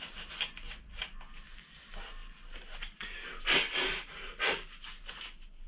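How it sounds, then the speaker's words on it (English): A brush scrubs corroded lockset parts from a Honda CBR900RR Fireblade motorcycle in quick, uneven strokes, several close scratchy bursts rising and falling with short pauses between them. "just a quick brush."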